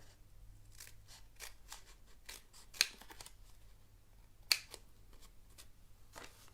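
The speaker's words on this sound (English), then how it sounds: "I'm just going to take my scissors and I'm going to cut along the edge here." Paper for a Halloween tombstone treat box is cut with scissors along its edge, giving a quick run of crisp snips close by with two sharper clicks of the blades, and no talking.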